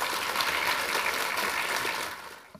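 Audience applause for sponsors at a Polish university's pharmacy-teaching centenary ceremony in Poznań: dense, steady clapping from a crowd filling the room, fading out near the end, with no talk over it.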